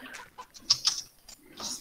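Chickens in the VoxeLibre block-building game give a few short, soft clucks spread across a couple of seconds, faint and close, with no talk over them.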